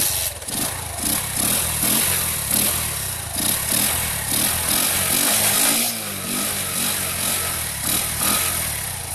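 A motorcycle with its intake pipe removed idles and revs in a rhythmic series of rough, pulsing engine bursts, close and fairly loud, with short blips repeating over about nine seconds.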